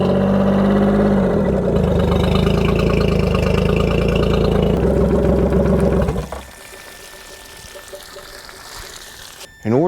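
Tohatsu 4-stroke outboard engine idling in cool weather, a steady close mechanical drone with a watery churn that runs for about six seconds, then cuts to quiet with faint background rustle.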